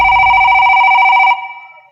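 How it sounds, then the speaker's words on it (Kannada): A telephone rings with a steady warbling electronic tone, loud and close, stopping abruptly after about a second and a quarter with no talk over it. "ನಮ್ಮ ಮನೆ ಮ್ಯಾಗಾರ ಫೋನ್ ಮಾಡ್ತೀನಿ."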